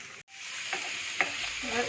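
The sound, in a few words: chopped shallots added to the pan for duck pepper roast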